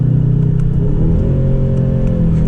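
A Mercedes-AMG GT 63 engine drones loudly and steadily up close, its pitch shifting slightly partway through as the driver downshifts.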